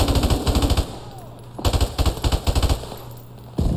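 Gunfire in Call of Duty Modern Warfare Remastered while entering a building under fire: loud, close bursts of rapid automatic shots, broken by short pauses, with a final burst starting at the end.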